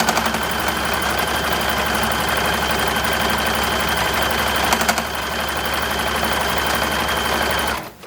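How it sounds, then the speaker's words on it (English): A modern serger runs in a steady, continuous mechanical whir with a fine rapid rhythm, holding at an even level for about eight seconds before stopping abruptly near the end. "I was already using the modern serger"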